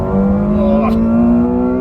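A McLaren 720S twin-turbo engine revs up with a smooth rising whine, loud and close, as it works down through the gears.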